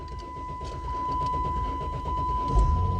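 A car engine with a suspected cam sensor fault, codes P0340 and P0344, turns over and rumbles for about three seconds, growing a little louder at the end as it labours to start, with a steady tone running under it.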